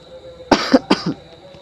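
Several short, sharp coughs, about four in quick succession from one nearby person during a spoken lesson, after a quiet moment.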